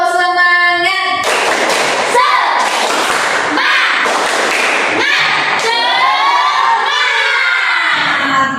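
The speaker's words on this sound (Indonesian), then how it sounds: "mari kita lakukan tepuk semangat" Schoolchildren in an Indonesian primary classroom perform the tepuk semangat chant, loud rhythmic group clapping in bursts alternating with shouted sung lines from the whole class, up close and energetic.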